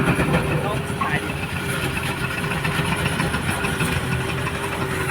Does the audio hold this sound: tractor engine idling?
yes